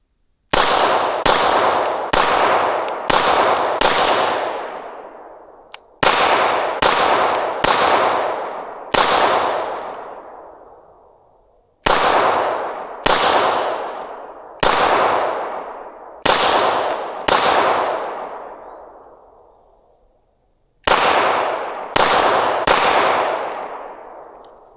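A Canik MC9 Meta Prime pistol fires loud, sharp shots close by in quick bursts of two to five, each crack ringing out before the next, with short pauses between the groups.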